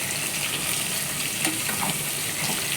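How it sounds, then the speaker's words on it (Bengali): Dried lotia fish frying in oil in a pan with tomato, onion, green chili and a little chopped garlic: a steady, close hiss of sizzling with faint stirring scrapes and no talking. "আমি প্রথমে কড়াইতে তেল দিয়ে তাতে লটিয়াগুলা হালকা ভুনে নিয়েছিলাম"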